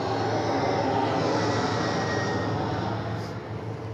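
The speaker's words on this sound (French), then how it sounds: "En fait, il va atterrir juste devant là." An airplane comes in to land at Nice airport, its engines producing a loud, steady broadband roar close overhead that holds throughout and eases slightly at the end.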